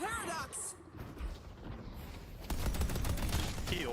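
A deployed turret in a video game fires rapid automatic bursts, crackling steadily under a player's voice and other game effects, with firing growing louder in the second half.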